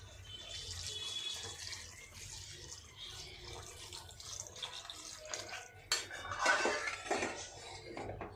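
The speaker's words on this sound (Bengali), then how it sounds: "এবার আমি এগুলো এতে জল দিয়ে দেবো" Water goes into cooked-down paneer curry masala in a pan, a faint splashing and bubbling with clinks of utensils that grows louder toward the end, heard alone.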